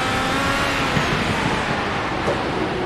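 IndyCar race cars in the iRacing simulator on a bumpy track amid lapped traffic: a loud, continuous engine roar holds steady throughout, with a brief swell near the end as a car slides past.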